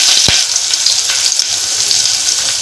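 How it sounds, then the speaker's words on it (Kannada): Chopped green chillies hit hot oil already crackling with mustard seeds and curry leaves, a loud, close, dense sizzle that starts with a sharp pop and holds steady throughout. "ಮೆಣಸಿನ್ಕಾಯಿ ಹೆಚ್ಚಿಟ್ಕೊಂಡಿದ್ವಲ್ಲ ಮೆಣಸಿನ್ಕಾಯಿ ಹಾಕ್ತದನ್ನು"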